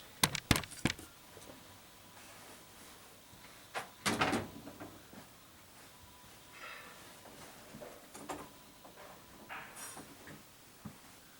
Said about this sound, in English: I'm just gonna shut the door and I'll be back.